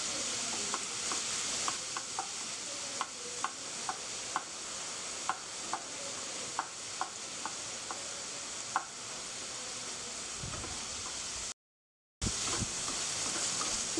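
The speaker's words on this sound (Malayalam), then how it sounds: "ഈ പൈനാപ്പിൾ ഈ നെയ്യിൽ കിടന്ന് നന്നായിട്ട് വഴണ്ട് കിട്ടണം." Pineapple sautés in ghee with a soft, continuous sizzle, punctuated by light regular taps of a spoon stirring the pan, close up and without speech; a brief dropout near the end.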